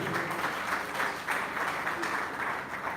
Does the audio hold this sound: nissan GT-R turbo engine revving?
no